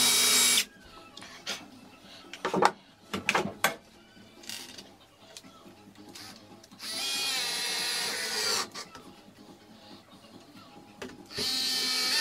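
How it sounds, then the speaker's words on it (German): Short whirring bursts of a power drill driving three screws to fix a guide rail on a bandsaw jig, close by, with clatter and handling noises between the loud runs. "Für den besseren Halt fixiere ich die Führungsschiene nochmal mit 3 Schrauben."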